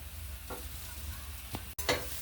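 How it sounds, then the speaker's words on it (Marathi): A spoon stirs and sautés ground green pea paste with mashed boiled potato in hot oil, giving a few soft scraping strokes and a faint sizzle under a low steady background, with a short gap near the end. "ते मी वाटण दोन मिनटं छान परतून घेतलेलं आहे आता आपण त्याच्यामध्ये उकडलेला हा बटाटा कुचकरून घालू"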